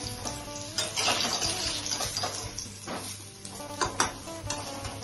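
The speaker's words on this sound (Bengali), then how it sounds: "আলুগুলো এভাবে লাল লাল ফ্রাই হয়ে গেছে, দেখুন ভালো লাগছে।" Potatoes fry in hot oil in a pan with a steady close sizzle, while a utensil stirs and scrapes against the metal in irregular clinks and knocks, fairly quiet, with no talking.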